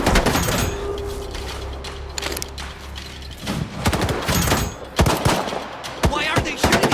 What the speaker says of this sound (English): Why are they shooting at us?